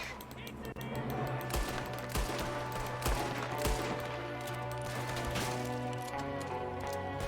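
Rapid bursts of gunfire crack repeatedly in Red Dead Redemption 2 over a dense, busy background of game sound effects and music, with sharp individual shots standing out.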